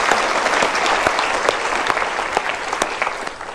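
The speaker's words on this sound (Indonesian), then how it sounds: "kita berikan tepuk tangan untuk Mas Heri" A studio audience at a motivational talk show claps together in sustained applause, a dense patter of hand claps, steady and fairly loud, tapering slightly toward the end.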